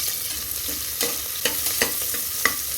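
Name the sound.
small onions frying in hot oil with mustard seeds and cumin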